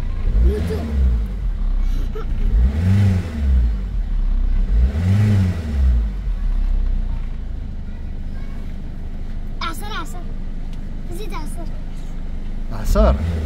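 A Peugeot 206 HDi diesel engine with an unstable idle revs up and down a few times in low, rumbling surges, close by, then settles to a steady idle.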